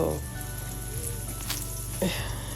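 Cajun fish fries in a pan with a steady hiss and crackle, a few louder spits standing out, while a voice talks faintly over it.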